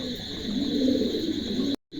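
A king pigeon gives a soft, low coo close by over a steady background hum, and the sound cuts out abruptly near the end.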